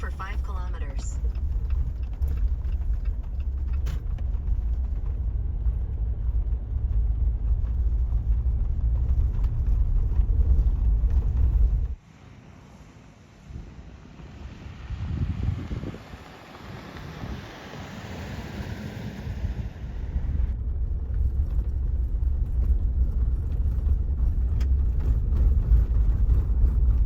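Inside a car driving on a dirt and gravel road near the Pacific coast, a steady low rumble of tires and engine continues with wind noise, easing briefly midway before the rough road noise returns.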